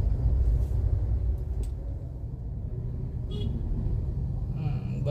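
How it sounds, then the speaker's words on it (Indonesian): Traffic jam on a bridge in Bau-Bau, with a steady low rumble of idling cars and motor vehicles, a few short horn toots rising above it, and faint voices in the background. "Wah, ini lagi masih macet."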